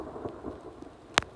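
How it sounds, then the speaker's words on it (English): Rain falls steadily on a mountain trail during a thunderstorm, with a sharp, loud crack of close thunder near the end. "it is still thundering and raining"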